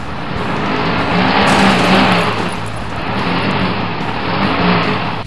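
Demolition derby cars crashing and grinding together, captured from a dash cam: a loud, continuous roar of engines and scraping metal with tire noise, steady throughout with no voices.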